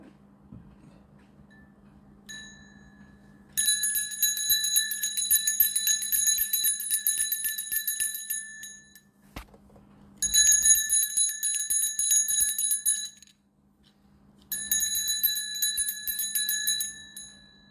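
Bells for a sound bath ring in three separate bursts, each a bright, shimmering high metallic tone held for a few seconds, with short quiet pauses between them and no voices.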